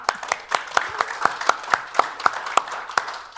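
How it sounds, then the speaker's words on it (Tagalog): A church congregation claps together in a steady rhythmic beat, roughly three claps per second, fairly close and even, with no speech over the clapping. "Palakpak naman."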